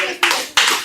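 A church congregation at a Sunday service claps for themselves in short loud bursts, several close bursts of dense clapping separated by brief lulls.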